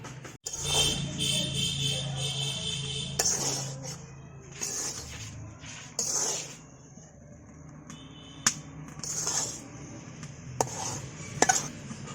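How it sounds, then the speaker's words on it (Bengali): Chana dal paste frying and being stirred in ghee in a pan, with scraping and clinking of a spoon against the pan in irregular bursts over a low sizzle, close and moderately loud. "দেখেন বন্ধুরা, এই যে আমি যে ডাল ভাজতেছি,"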